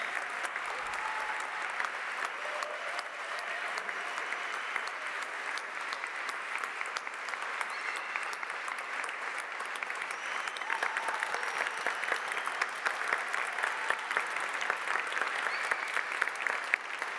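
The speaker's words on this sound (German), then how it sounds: "einen ganz herzlichen Applaus" At a seventh-anniversary celebration, a crowd keeps up long, even applause, a dense wash of clapping at moderate distance that holds steady throughout and grows slightly stronger toward the end.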